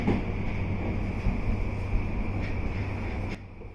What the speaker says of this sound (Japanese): このスピードで入線して止まれるんだね。